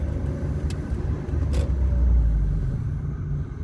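A car drives through the city centre of Poznań, Poland, giving a steady low engine and road rumble from inside the vehicle, with a couple of brief clicks and no talking.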